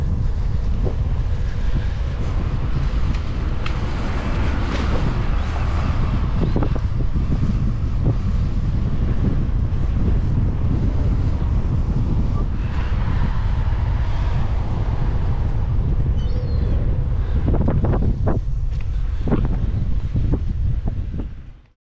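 Strong wind rushes over the microphone on a gravel bike during a French bikepacking trip, a loud sustained buffeting roar with a few brief knocks and rattles near the end, no speech.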